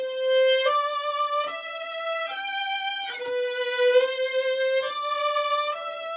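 One violin part recorded four times and layered into a small string-orchestra sound, slow sustained bowed notes shifting together about once a second, full, dry and without reverb.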